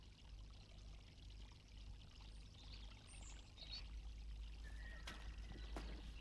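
A flowing stream of water gives a continuous rushing, pouring wash that holds steady throughout and swells a little toward the end. It sounds close, with no voices.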